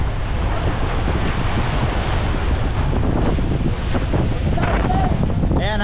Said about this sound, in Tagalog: Bali nasa 40 ang bugso ng hangin ngayon